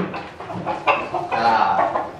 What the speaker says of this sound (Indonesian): Ayam juara euy.